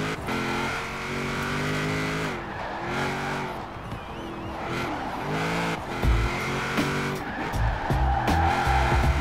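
Buick Regal race car on a circuit, its engine revving up and down through gear changes, with tires squealing at the corners, loud and close throughout.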